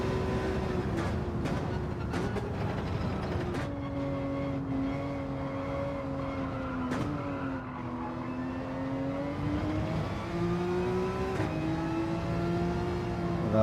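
A Porsche race car engine in a racing video game at Suzuka climbs and falls in pitch as it accelerates and shifts, a continuous whining drone with a few sharp clicks and a brief skid-like burst.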